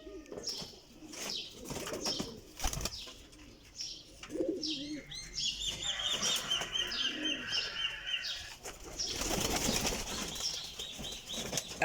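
Pigeons flap their wings nearby in several short, fluttering bursts, with soft cooing and light chirps between them and no speech.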